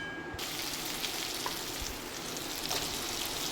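Spice paste with poppy seed and cashew paste frying in a pan, a continuous dense sizzle with faint stirring scrapes, steady and close.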